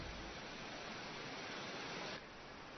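A huge waterfall, 158 metres high and 48 metres wide, roaring as a continuous broadband wash of falling water, steady and loud, with no voices.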